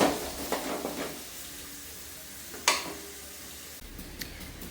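Onions frying in a pan with curry leaves and garlic, a soft continuous sizzle broken by a few brief scraping stirs, one sharper clink standing out midway.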